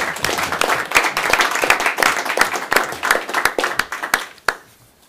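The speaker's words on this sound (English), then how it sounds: "let's give them all a round of applause" A school board meeting audience applauds AP Scholars, close, lively clapping with many distinct hand claps that thin out and fade to quiet near the end.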